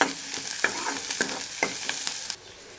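A curry leaf and pepper paste with tamarind and garlic fries in a pan, a steady sizzle broken by regular scraping stirs, close and fairly quiet, ending abruptly.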